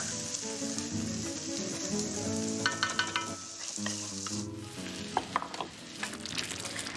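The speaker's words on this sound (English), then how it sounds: "I just want to let those spices and that chili simmer in here for about a minute" Spices and chili simmer and sizzle in a pan, a steady frying hiss broken by occasional stirring scrapes and clicks heard up close.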